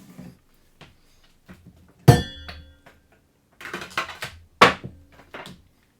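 Steel woodworking chisels lifted and set down in a wooden chisel box, giving a few sharp metallic clinks and knocks, with two loud clattering bursts among quieter scattered taps, close by and alone.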